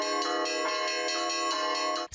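Small bells at a Buddhist temple in Kalmykia chime continuously, their bright overlapping strikes ringing clearly and evenly before cutting off abruptly.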